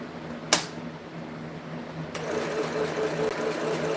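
A tiny, hard-to-handle sewing machine starts up after a sharp click and runs at a fast, steady stitching rhythm, close and moderately loud, with no voices.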